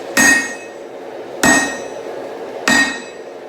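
Three heavy hammer blows strike a steel billet being forged into a Dane axe, each a loud, close metallic clang with a short ring, spaced evenly about a second and a quarter apart, with no voices.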